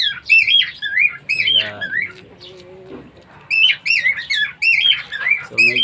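A pet bird squawks repeatedly and loudly during hand-feeding at home, its harsh rising-and-falling calls coming in bursts, with a person speaking softly in between.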